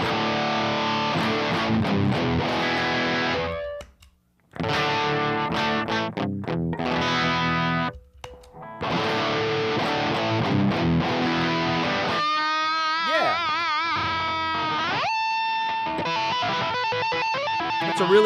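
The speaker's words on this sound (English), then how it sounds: "It's like a really good rock distortion." An electric guitar played through an Intimidator rock distortion pedal gives loud, saturated chords and riffs with short pauses, then wavering sustained single notes toward the end. No voices are heard.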